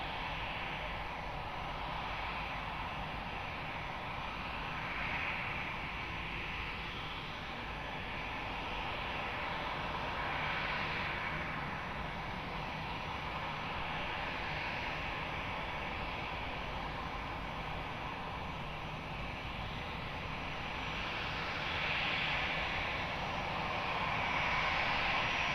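easyJet airliner landing on runway 20 at Lisbon Airport: a faint, distant engine whine and hum, steady with gentle swells, heard alone without talk.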